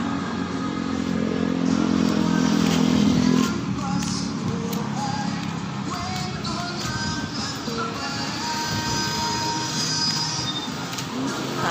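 Happy Train tourist train rolling along at Lakeshore, a steady loud rumble with squealing wheels and a dense outdoor crowd ambience throughout, fairly close, with no clear speech.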